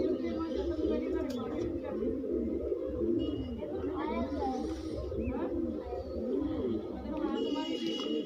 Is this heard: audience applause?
no